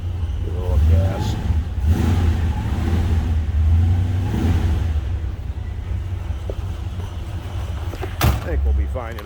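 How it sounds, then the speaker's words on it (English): A 1965 Chevrolet Chevelle Malibu SS V8 rumbles low and steady, swelling in short revs, while a person talks over it and a door-like bang lands near the end. "Give it a little gas."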